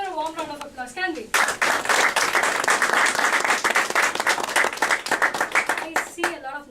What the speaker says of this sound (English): Let's give her a warm round of applause, can we?